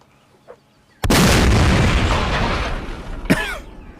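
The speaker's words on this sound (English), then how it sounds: "Quite the report from that cannon." A cannon in the Mount & Blade North & South mod line battle fires one loud, sudden boom that rolls into a long, sustained roar, followed by a sharp secondary crack and a fading tail.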